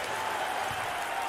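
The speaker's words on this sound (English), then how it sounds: "The crowd is thunderous." Steady roaring crowd noise fills a basketball arena during an NCAA tournament Elite Eight game between Drake and Wright State, a continuous loud wash of cheering with no distinct breaks.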